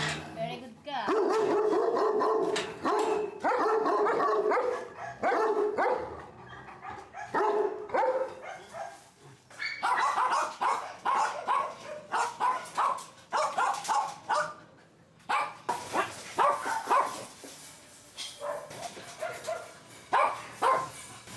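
Raw-fed pet dogs barking repeatedly in bursts at close range, with a few whimpers and yips mixed among the barks and louder voices speaking in between.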